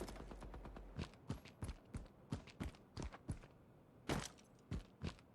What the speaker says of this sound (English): Sounds like somebody's got a shotgun or a rifle of some kind.